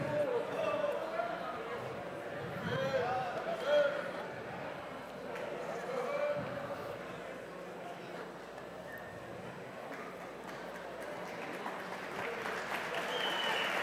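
Applause for an award winner at a prize ceremony of a nativist music festival, a steady crowd clapping that carries on throughout, with voices and background talk mixed in.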